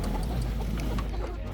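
Chickens in a chicken tractor moved out of a garden cluck in short, close bursts over a steady outdoor background, with no talking.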